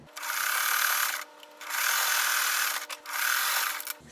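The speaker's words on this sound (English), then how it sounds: "Put them right sides together, and I'm going to sew." A sewing machine stitches fabric strips together for a scrappy quilt block, running in three steady bursts with brief stops between them, close and even in pitch.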